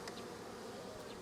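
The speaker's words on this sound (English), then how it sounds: "there's a lot of bees in here." Bees in a hive being fed sugar water make a dense, steady buzzing hum, close and continuous for a brief moment with no talk.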